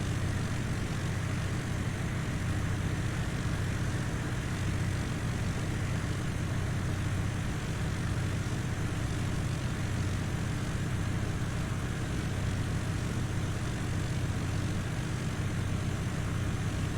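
A propeller airplane engine drones in Flight Simulator 2000, a steady, dense roar that holds constant and loud for the whole stretch, with no voices over it.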